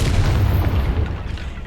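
Confringo blasting spell in a Harry Potter video game, one deep, loud boom that rolls out into a fading low rumble.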